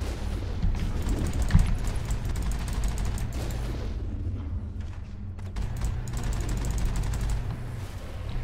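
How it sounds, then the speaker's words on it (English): Rockets and gunfire in the video game Mass Effect: a rumbling, steady barrage of blasts and booms with a sharper hit early on, dipping briefly before swelling again. "Rockets, rockets, rockets."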